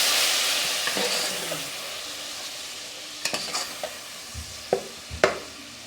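Tomatoes and green chillies being stirred into a pot with garlic-ginger paste, a continuous sizzle and hiss of frying broken by several sharp scrapes and knocks of the spoon against the pot.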